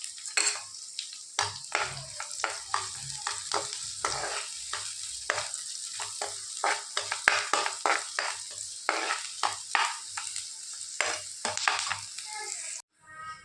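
One chopped onion frying in a pan already used to fry paneer, for a matar paneer masala curry: steady close sizzle broken by frequent scraping stirs and clinks throughout, with no talking.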